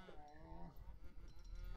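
A cow moos in a video game, a single long, low, drawn-out call that plays faintly and on its own.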